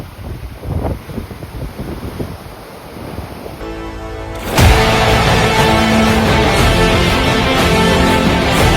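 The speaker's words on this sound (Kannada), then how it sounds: "ನೋಡ್ರಿ ಗೈಸ್ ಇದೆಲ್ಲ ಅಲೆ." Waves and flowing water on the Chorla Ghat route toward Goa surge and rush loudly, a steady roaring wash that swells sharply into a dense, continuous torrent partway through, with no talk.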